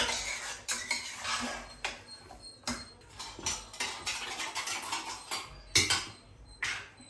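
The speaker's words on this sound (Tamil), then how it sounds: "தோசை கரண்டியில் கலர்றதால கொஞ்சம் பறகுது." A metal dosa ladle scrapes and clatters against a pan while stirring chicken curry, with repeated irregular clinks and scrapes at close range.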